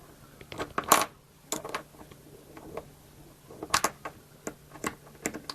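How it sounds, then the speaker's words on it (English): Small metal nuts being unscrewed and lifted off a buzzer membrane, a scattered series of light clicks and taps, close and quiet, with no talk. "I'm just going to unscrew these 3 nuts now which hold the membrane on"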